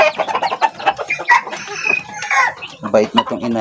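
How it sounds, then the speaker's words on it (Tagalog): A hen, a Philippine native chicken, clucks and chatters in a rapid irregular series of short calls, close and fairly loud, with other fowl sounds mixed in and no clear talk. "Ito yung inahin."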